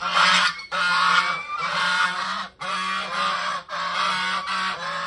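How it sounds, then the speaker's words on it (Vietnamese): A goose honks loudly and nearby in a long series of harsh, blaring calls, each lasting a second or so and separated by brief gaps. "con ngỗng lại là nó kêu sùm vậy đó"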